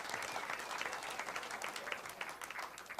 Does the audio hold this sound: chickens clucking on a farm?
no